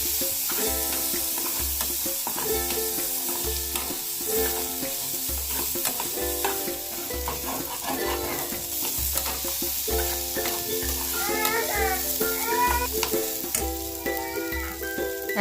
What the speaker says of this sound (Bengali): তারপরে দিয়ে দেব ডালিয়া আর যে মুসুর ডালটা ধুয়ে রেখেছিলাম সেইটা দিয়ে একটু নাড়াচাড়া করে নেব।